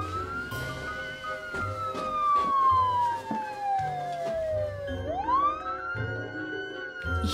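A loud siren wails in one long falling sweep, then abruptly rises again, with rhythmic mechanical thumping underneath.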